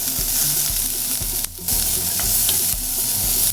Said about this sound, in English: We're gonna let this sweat a minute until the onions start to go a little translucent, until the garlic gets nice and fragrant.